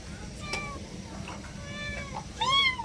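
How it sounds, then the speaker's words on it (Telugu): A pet cat gives several meows at close range, a few short calls followed by a louder, drawn-out one, over a steady background hum. "మా పిల్లి, మా అమ్మ వాళ్ళదా పిల్లి"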